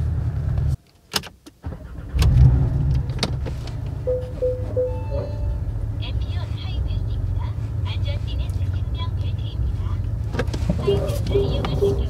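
Porsche 718 Boxster GTS pulling away and driving through a rough alleyway, engine droning steadily from inside the car after a brief door or window sound and a short pause, with someone talking over it.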